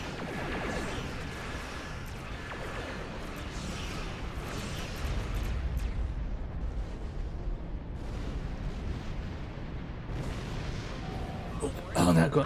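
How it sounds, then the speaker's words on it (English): A dense, rumbling warp core explosion in Star Trek Online roars over continuous low booms and crackling debris, with a sharp loud burst near the end. "warp core explosions. Never your friend."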